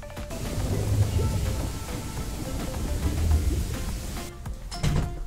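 A rainstorm with thunder rumbles in the dinosaur game BoB: steady rain hiss under deep, rolling thunder that swells and fades, with a brief lull near the end.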